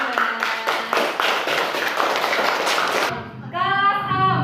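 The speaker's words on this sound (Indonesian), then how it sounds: "Berikan tepuk tangan untuk kelompok 2." Classroom applause for a student group in a fourth-grade class, a few seconds of close, uneven hand claps that stop abruptly, followed by a brief tonal voice or sound.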